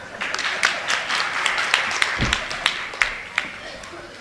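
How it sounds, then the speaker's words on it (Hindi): An audience claps at a political speech, a moderately loud run of scattered, uneven claps with a few sharper individual hits, and faint voices beneath. "तो आप लोगों ने तालियां बजाकर ये बताने का कष्ट किया कि आपको अब समझ में आ गया है।"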